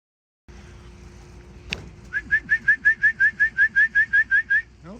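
At a pigeon loft during a young bird race, a sharp clack is followed by a quick, evenly spaced run of about a dozen bright chirping whistles, close and clear over a quiet background.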